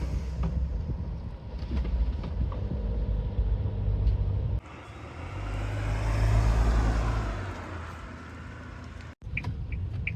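A 2021 Suzuki Spacia kei car driving through city streets, heard from inside as a steady low road rumble and engine hum with wind noise, swelling louder midway before settling.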